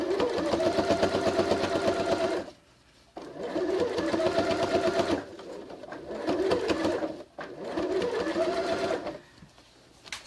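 A sewing machine stitches a Christmas stocking in several close, loud bursts of rapid mechanical chatter, pausing briefly between runs as the fabric is guided through.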